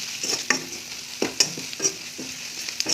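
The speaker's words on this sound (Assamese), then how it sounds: "এতিয়া মই গোটেইখিনি গেছটো কম কৰি অলপ মছলা জলকীয়া ভালকৈ ভাজি দিম" Spices and chillies sizzle and crackle in hot oil over a lowered gas flame, with a spoon scraping and stirring the pan in short repeated strokes, close and fairly quiet.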